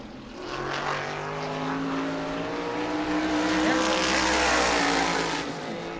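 Modified race car on a qualifying lap at New Smyrna, its engine roar building as it approaches and passes, a sustained loud drone that peaks near the end before easing slightly.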